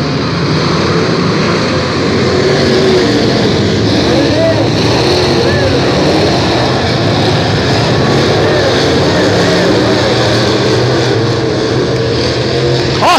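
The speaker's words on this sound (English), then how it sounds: "18 street stocks on the track. We're going racing here" Eighteen street stock race cars roar around Flomaton Speedway in a dense, continuous engine drone that holds steady and loud throughout, with an announcer's voice running over the din.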